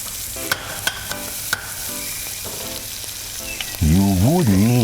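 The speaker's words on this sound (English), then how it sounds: "Shuffle the scallion in the oil. Allow it to saute." Scallions sauté in hot oil for a tinned mixed vegetable codfish stew, a loud, steady sizzle with a few sharp taps of a spoon on the pan, then a tonal rising sound near the end.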